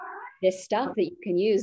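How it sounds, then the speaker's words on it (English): A pet cat meows in short, rising calls that blend with a person talking close by, the voice running across most of the moment. "Sorry about my cat."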